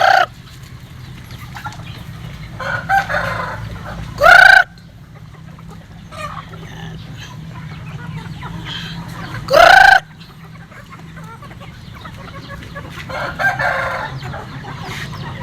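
Gamefowl roosters in a breeding yard crow loudly twice, several seconds apart, while hens and roosters cluck and murmur softly in the background throughout.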